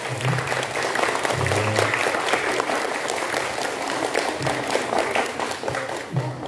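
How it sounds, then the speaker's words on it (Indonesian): Audience applause at a school study-tour gathering in Mojokerto, a steady wash of many hands clapping throughout, fairly loud and continuous, with a faint voice in the background. "Monggo tepuk tangan dari semuanya"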